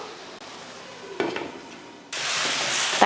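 Tomatoes sizzle in oil in a pan, a soft frying hiss broken by a short clatter of utensils, then a louder, steady sizzle takes over near the end.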